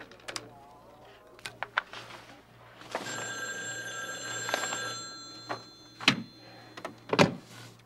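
Telephone ringing with bright, clanging bell bursts, several rings spaced through the moment and fairly close, with some rustling and movement around it.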